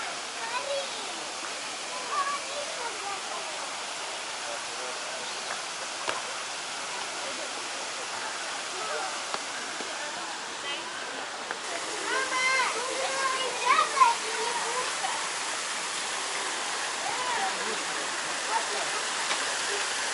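A fountain near Alexander Garden by Okhotny Ryad in Moscow: a steady, even rush of falling and splashing water continues throughout at moderate distance, with faint scattered sounds from the surroundings.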